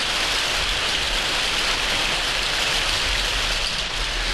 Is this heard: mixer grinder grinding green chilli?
no